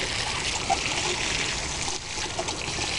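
Water pours continuously into a bucket of compost to make compost tea in a vegetable garden bed, a steady, fairly loud splashing trickle with no talking.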